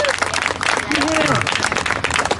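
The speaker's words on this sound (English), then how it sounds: "could we give a huge round of applause to Laura Gilmartin for organising this" Crowd applause and clapping at an outdoor lockdown protest in Glasgow, a steady dense wash of hands held at even loudness throughout, with a voice briefly carrying over it.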